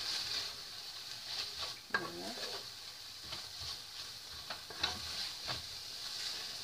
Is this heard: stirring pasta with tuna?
yes